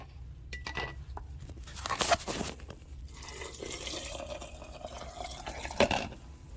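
Water runs into a pot for water-bath canning cranberry juice blends, with a continuous trickling splash broken by a few sharp clunks and crunchy handling noises.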